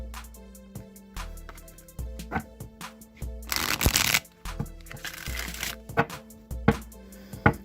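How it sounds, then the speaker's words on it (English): A tarot deck is shuffled repeatedly, crisp riffling bursts and sharp taps separated by short pauses, close and clear with no talking. "now I'm just going to shuffle the Rider-Waite deck a few times"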